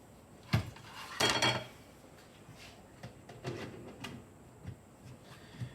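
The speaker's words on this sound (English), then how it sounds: "I'm putting the lid on loosely" A lid is set loosely on a pasta dish before it goes into the microwave, making faint close-up clatters and light plastic knocks in a quiet kitchen.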